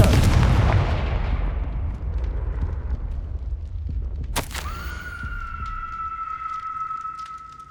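In the Hogwarts Legacy game, a Confringo fire spell blasts with a deep rumbling boom that fades. A sharp crack follows, then a sustained ringing magical hum, loud and alone.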